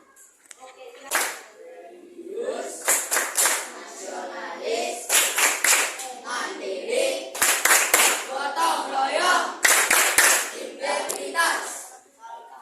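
A group of schoolchildren performs the tepuk mustika clap chant, with bursts of sharp, rhythmic unison clapping alternating with chanted words, fairly loud and close.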